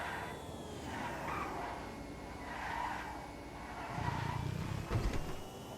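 A video game car being test driven skids with a sustained tire squeal and a droning engine, the screech swelling and fading in waves before a louder rough burst near the end.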